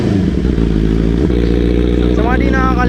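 A motorcycle fitted with an AR exhaust revs at a riders' night gathering, a loud close engine drone that climbs in pitch toward the end, with voices talking in the background.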